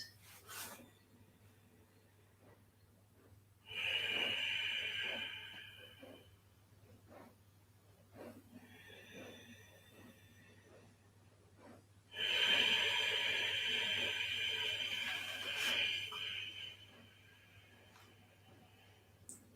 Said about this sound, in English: I'm going to take 5 breaths.